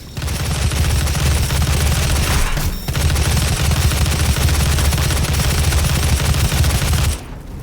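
Sustained rapid gunfire from a weapon in Doom (2016), loud and dense, breaking off briefly once before resuming and then stopping abruptly near the end.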